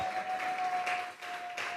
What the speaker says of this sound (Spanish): Vamos a regalarle ofrenda de palmas al Dios